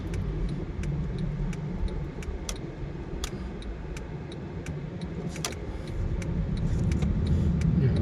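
Light Saturday car traffic rolls along a road in front of Ramkhamhaeng, a steady broad rumble of engines and tires that swells slightly toward the end, with faint ticking clicks scattered over it and no talking.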